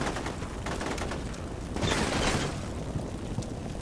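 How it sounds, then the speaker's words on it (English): Grenades going off in Combat Mission Shock Force 2 during an urban ambush at a polytechnic gate, a dense, continuous roar of blasts and crackling gunfire with a heavier thump swelling near the middle. "More grenades going into the Polytechnic."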